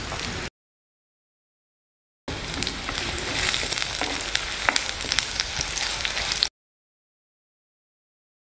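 Sliced onions and green chilies fry in a pan for moong dal, giving a steady close sizzle and crackle that runs for several seconds between stretches of silence.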